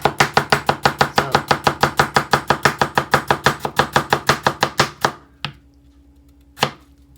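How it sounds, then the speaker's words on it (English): A knife chops a vegetable into even pieces on a board, about thirty quick, evenly spaced loud chops in a steady rhythm, then a pause and two last single chops. "I just use the quickest way to chop it, the even sizes"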